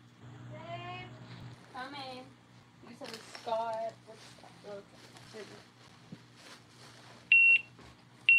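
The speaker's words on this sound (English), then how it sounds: "There it is. There's a giveaway timer" A giveaway timer at a live bottle auction gives two sharp, high electronic beeps near the end. The beeps follow a stretch of people talking and sit fairly loud and close.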